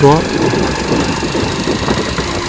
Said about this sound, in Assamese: শুনেক তো শুনেক গাড়ীখানেৰ আৱাজ